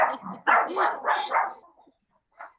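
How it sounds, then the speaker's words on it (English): A dog barks in a quick burst of several loud, close yelps, then goes quiet before one last short bark, with no talk over it. "Show us your dog. You got some dogs?"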